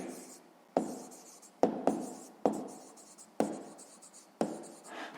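A pen writes out a sixth-grade math solution on paper, with several short scratchy strokes each starting sharply and fading, close and quiet.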